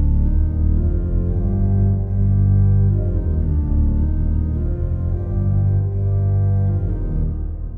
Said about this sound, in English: the organ begins a repeated 7-beat-long figure in the bass, played by the pedals, which sounds like this.